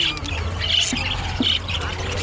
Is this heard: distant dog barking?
no